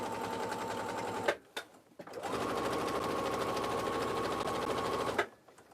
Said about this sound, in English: I'm just top stitching 1/8 of an inch away from the fold, the seam.